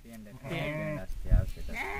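A flock of sheep bleats close by, several quavering calls overlapping and rising through the clip, with a voice talking among them.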